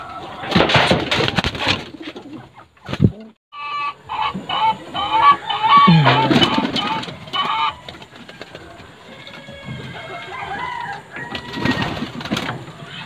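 Racing pigeons coo repeatedly in soft throaty bursts, close by, with some clucking and rustling mixed in and no talking.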